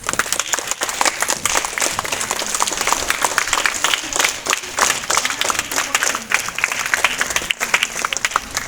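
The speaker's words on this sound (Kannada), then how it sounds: "ಜೋರು ಚಪ್ಪಾಳೆ ಕೊಡಿ." Loud, dense applause fills an auditorium at the inaugural ceremony of a college event, steady clapping from a large audience sustained throughout with no pauses.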